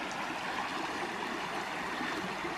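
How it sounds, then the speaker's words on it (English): Small cascade on a forest creek among thinning hemlocks in Bankhead National Forest, Alabama, giving a steady, close, unbroken rush of falling water with no other sounds. "that little cascade there may be all that we get"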